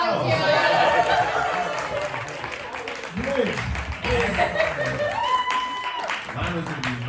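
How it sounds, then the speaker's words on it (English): An audience claps through the whole stretch in a steady, moderately loud wash of applause, with people talking and chattering over it. "Yeah, round of applause."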